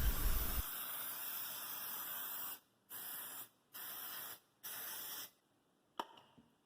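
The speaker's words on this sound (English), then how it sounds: "grease the muffin and loaf pans with some cooking spray" Cooking spray hisses from a can in one long burst followed by three shorter sprays, close and steady, onto muffin and loaf pans, then a faint clink.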